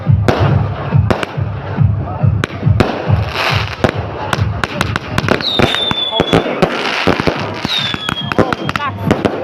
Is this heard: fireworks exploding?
yes